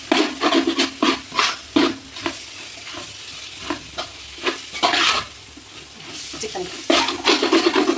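Coriander and mint leaves being mixed into a Bangalore-style kushka biryani base in a pot, repeated scraping and stirring strokes in uneven bursts over a soft sizzle, close and fairly loud.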